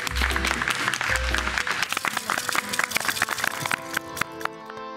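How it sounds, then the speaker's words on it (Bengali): An audience at a staged song performance breaks into dense, lively applause that thins out and gives way to the first tones of music. "একবার জোরে হাততালি হয়ে যাক।"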